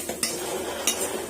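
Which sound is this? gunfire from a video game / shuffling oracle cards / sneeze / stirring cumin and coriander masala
stirring cumin and coriander masala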